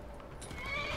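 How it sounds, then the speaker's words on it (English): A horse neighs in the video game Skyrim, a short, close whinny with clip-clopping hooves beneath it. "Horse."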